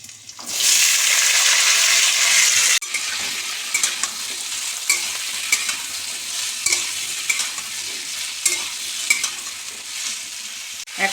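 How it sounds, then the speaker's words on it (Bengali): Small diced potatoes drop into hot oil for a cauliflower-potato posto, bursting into a loud sizzle, then frying steadily with repeated spatula clicks and stirring scrapes, no voices. "এরকম চৌকো চৌকো এই পোস্তর আলুগুলো তেলে দিয়ে দেব।"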